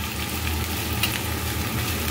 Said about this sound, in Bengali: আমি প্রথমে পেঁয়াজ কালিগুলোকে একটু ফ্রাই করে নেবো ভালো করে